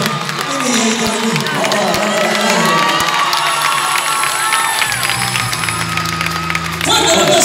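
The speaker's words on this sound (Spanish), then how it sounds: "Quiero que te den un fuerte aplauso" An audience cheers, shouts and applauds in a theatre during a live cumbia concert, a loud dense crowd roar with whistles and excited voices lasting throughout.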